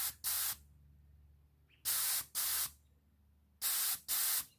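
Nitrogen gas hisses from a tank regulator and food-packing gun in sharp, loud bursts, arriving as three pairs of short blasts separated by near silence.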